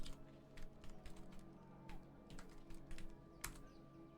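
Faint, irregular clicking of keys on a computer keyboard during gameplay of Tidefall Alpha, scattered taps over a steady low background hum with no one speaking.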